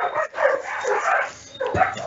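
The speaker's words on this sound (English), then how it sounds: "I bet the dogs are going on at a rate outside" Dogs barking outside, a quick run of yips and barks with whimpering tones, fairly close and loud over a short burst.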